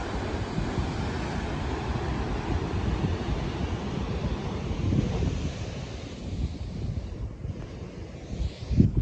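Wind buffets the microphone while ocean waves break and wash continuously at a Pacific Coast Highway beach outside Santa Cruz, a loud, rough, broadband roar with a slight surge near the end and no voices.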